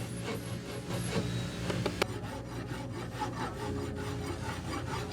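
Steady rasping rub of 220 and 320 grit sandpaper working a heavy 2-kilo gold Cuban link chain, continuous dense scraping strokes up close with a sharp tick partway through, no voices.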